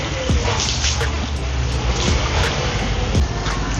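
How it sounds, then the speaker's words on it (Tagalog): Water is rinsed over the glass of a Toyota Fortuner after an acid glass treatment, a steady broad splashing and spraying that runs continuously at close range with a few faint clicks. "Tapos pag okay na, banlaw ka agad ng tubig."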